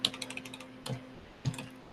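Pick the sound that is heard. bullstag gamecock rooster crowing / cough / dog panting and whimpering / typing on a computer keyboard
typing on a computer keyboard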